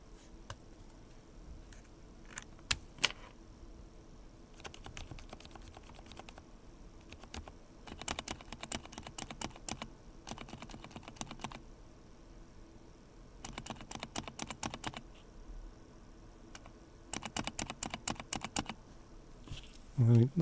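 Bursts of rapid clicky key taps on a mechanical keyboard come in clusters separated by quieter pauses, fairly close and moderately loud.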